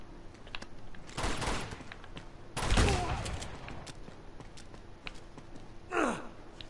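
Gunfire in the Uncharted 2 video game: a few scattered shots and bursts, with a louder, heavier blast near the middle and another short burst near the end, over steady game background noise.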